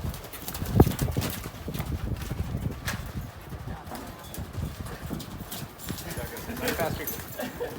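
A wild mustang canters for a few strides, its hooves drumming in a quick rhythmic thud on the ground with a loud thump near the start, while a voice talks over it.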